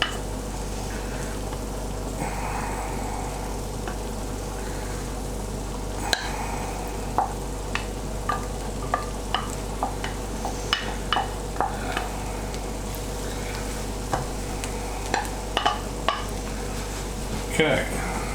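Corned beef frying in a pan for St Helena corned beef hash: a steady sizzle runs throughout while a utensil stirs and scrapes, with irregular sharp taps and clinks against the pan.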